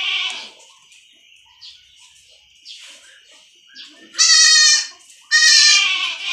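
A young goat bleats while being handled for an iron injection. Soft, faint cries come first, then two loud, close, wavering bleats near the end.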